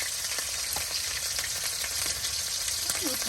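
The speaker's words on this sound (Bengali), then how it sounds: "আর এটা এখন মশলাটাকে ভালো করে আপনার তেলের সাথে এই দেখুন সুন্দর করে ভেজে নেওয়া হচ্ছে।" Ground onion, garlic and cumin paste fries in oil on a rural clay stove, giving a continuous close sizzle with occasional light stirring scrapes and faint crackles.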